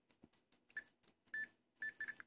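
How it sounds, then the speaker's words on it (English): A keyboard switch tester beeps on a good connection during a keyboard repair: short, faint electronic beeps come in quick bursts, mixed with soft clicks of the switch being pressed. "So if this is a good switch, it'll beep."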